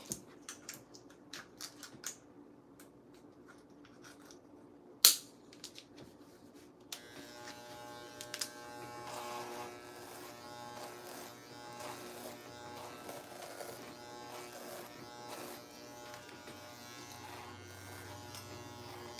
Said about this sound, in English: Oh, this clipper seems to be dull.